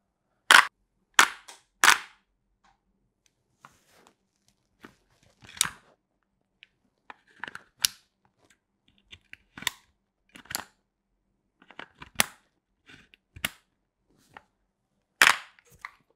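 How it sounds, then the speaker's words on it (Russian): A wooden UMP rubber band gun firing, a series of sharp dry snapping clicks in quick irregular bursts, some louder and some faint, with small mechanical ticks between shots in otherwise quiet surroundings. "Вот так вот круто и шустро стреляет UMP."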